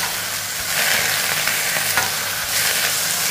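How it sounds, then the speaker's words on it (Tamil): Leafy greens sizzle and hiss in a hot pan, a loud, continuous frying crackle with occasional stirring scrapes and no talking. "இத நல்லா வதக்கிக்கிறோம்"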